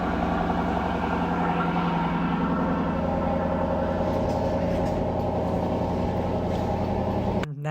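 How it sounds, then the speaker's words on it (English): A 2021 Lexus LC500 convertible's engine runs with a steady, loud, close rumble that holds for several seconds, then cuts abruptly near the end. "engine start."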